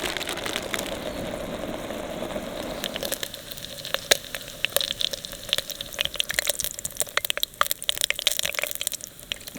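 Bear fat rendering in hot frying oil, a loud close crackling sizzle with sharp irregular pops that grow busier after a few seconds, no voices.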